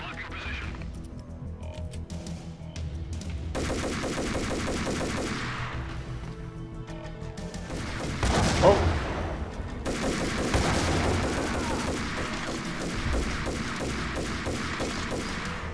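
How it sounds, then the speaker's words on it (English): Gunfire in the video game Max Payne, repeated bursts and volleys of shots coming in waves with brief pauses, moderately loud game audio under occasional talk. "Who is shooting me?"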